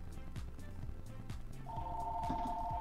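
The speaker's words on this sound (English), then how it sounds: "Was my phone ringing?" A phone rings during a Pokémon fan game session, a steady electronic tone entering partway through over busy game music and background noise.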